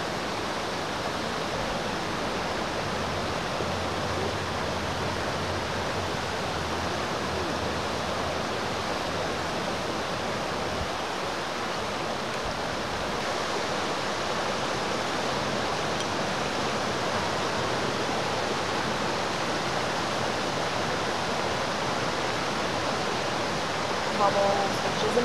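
Steady rushing stream water flows continuously beside a sampling spot, a dense broadband wash that stays even and fairly loud throughout with no pauses.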